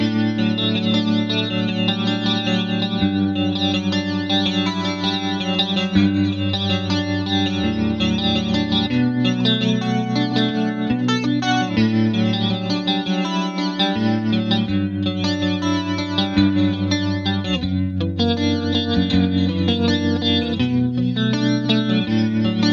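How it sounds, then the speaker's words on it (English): Pristine, pushed clean electric guitar tone from a Fender Tone Master Pro amp modeller, run through a studio compressor, flanger and tremolo, playing steady chords and arpeggios for over twenty seconds with swirling modulation and an even, compressed level. "Got a studio compressor on, a flanger, and then a tremolo as well."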